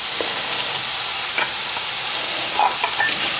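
Frozen broccoli sautéing in a pan for a crustless quiche, a constant loud sizzle and steamy hiss with occasional light scrapes and clinks of stirring up close.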